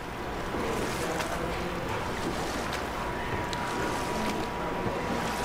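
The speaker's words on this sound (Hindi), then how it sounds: "देखो वाटरफॉल, देखा?" Water in the God of War video game roars steadily as a dense, unbroken wash of rushing noise, with no voices over it.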